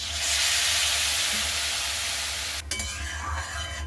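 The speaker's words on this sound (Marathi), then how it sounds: "आता हे सोयाबीन मस्त फ्राय करून घेऊ" Loud, continuous sizzling of soybeans frying in a pan with spice masala, with scraping stirring noises near the end.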